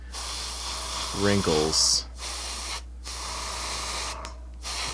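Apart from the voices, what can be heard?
spray painting shadows on a miniature's cape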